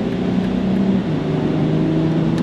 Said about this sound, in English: There, you can hear that sound of that exhaust.